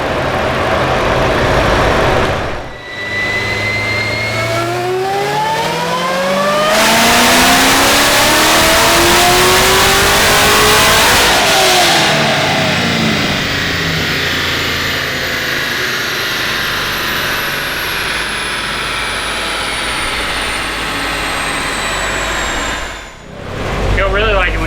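A supercharged blower engine revs hard and loud, its pitch sweeping up and then easing back down, with a second rev later on. Voices talk over the engine throughout.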